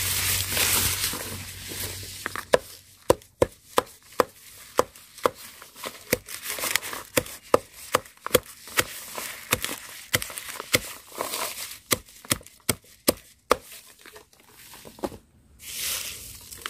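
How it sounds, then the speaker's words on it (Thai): Eucalyptus leaves are chopped with a blade in a long series of sharp, fairly regular thwacks, some quick and close together, over a quiet background. "นั้นเราก็สับใบยูคานะคะ"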